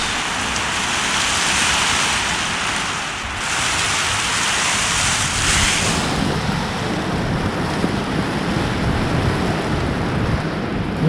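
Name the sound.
wind-driven rain coming through slats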